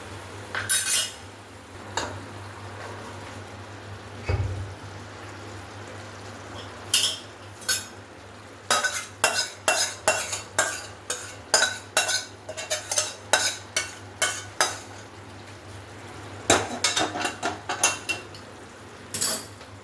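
Pre-fried chicken tipped into cooked masala in a pan and stirred, dense runs of metal spoon scraping and clanking against the pan over a faint sizzle, close and busy, with brief pauses.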